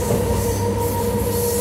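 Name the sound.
Anantapur to Bengaluru DEMU train running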